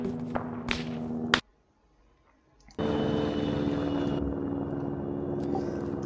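Video game helicopter spinning after its tail rotor is hit, a loud whirring rotor drone that cuts out briefly to near silence, then returns as a steady bright hum.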